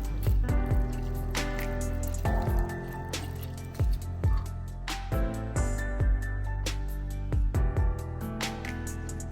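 Wet squishing and squelching as lime juice is squeezed and a masala paste is mixed by hand for fish biryani, in irregular bursts over a low steady hum.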